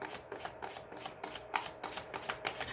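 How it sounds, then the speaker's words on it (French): Tarot cards are shuffled and laid down in quick, crisp, regular flicks and slaps, close and fairly soft, with no voice over them. "moi, je vais recouvrir les cartes négatives"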